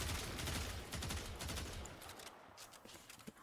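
Bursts of gunfire in the shooter game Warframe aimed at a creature, a fast volley of shots at first that thins out into scattered, quieter hits toward the end.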